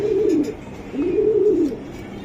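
A racer pigeon coos close by, two low rolling coos with a short pause between, and no one talking.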